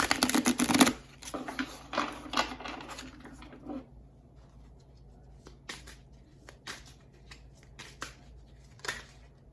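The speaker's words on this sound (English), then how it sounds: "just gonna start shuffling here" Osho Zen tarot cards are shuffled close by in quick riffling bursts. The crisp snapping is dense at first, then thins to scattered light taps and flicks.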